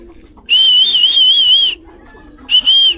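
Pigeons kept as pets make a loud, close, wavering whistle-like call that holds for over a second, breaks off, then returns briefly.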